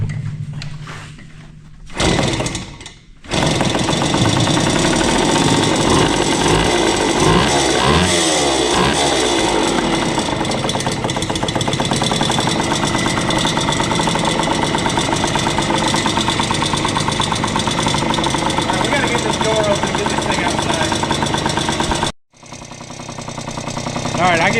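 A small 1974 Indian ME 100 motorcycle engine runs close and loud, a steady rapid putter with throttle blips that rises and falls for about twenty seconds, with people talking over it.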